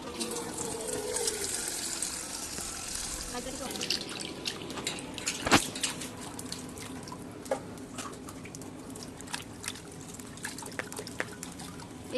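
Kharkol leaves washed one by one under water: running and dripping water with splashes and intermittent clinks near a sink, a soft voice faintly audible.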